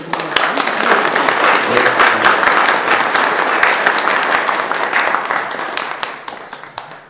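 A crowd at an AI business meeting in Ulsan gives the arriving president loud, warm applause, a dense roar of many hands with sharp individual claps standing out, fading slightly toward the end.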